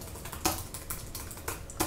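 Home row keys tapped on a computer keyboard during a typing lesson, a steady run of light clicks with a few sharper keystrokes standing out, close and alone.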